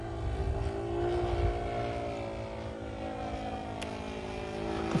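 RC model Great Planes Ju-87 Stuka with flaps down in a dive bomb run, its engine droning steadily with a rising and falling pitch, moderately close and continuous throughout.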